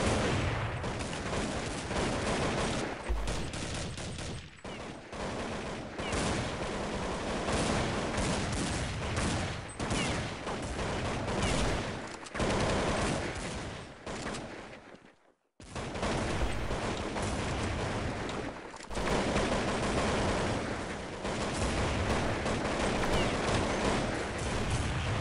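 Desert Eagle gunfire in Counter-Strike 1.6, a dense, loud stream of repeated shots and battle noise with almost no pause, broken by one short gap midway.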